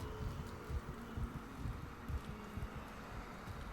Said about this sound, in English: A rhythmic beating. It sounds like a heartbeat.